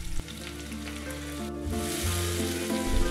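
Chopped onion goes into hot oil in a pan or pressure cooker for mutton, bringing a close crackling sizzle that swells after a sharp clank midway, with a low hum running underneath.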